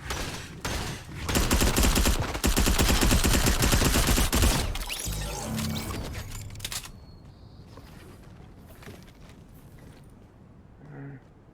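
Gunfire in the video game Fortnite, a dense, loud burst of rapid shots crackling for several seconds, then fading into quieter scattered game sounds and faint distant pops.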